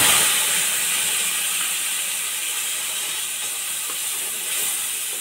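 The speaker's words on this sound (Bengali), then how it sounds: "মিশ্রণটাকে দিয়ে একটু কষাবো" Ginger, green chilli, turmeric and Kashmiri chilli paste with salt frying in a pan, giving a loud, constant hissing sizzle close by, steady from start to finish with no voices.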